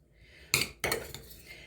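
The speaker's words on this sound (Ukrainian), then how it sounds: "ми вимішали нашу гречку" A spoon mixing buckwheat porridge in a bowl gives two sharp clinks against the bowl, then lighter taps and scraping. The sounds are close and quiet, with no talking.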